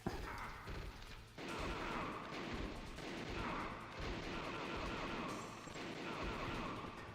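Sustained gunfire and explosive blasts from the Metal Gear Solid video game, played in a first-person widescreen mod, forming a dense, loud wall of repeated shots and crashes that runs throughout without a break.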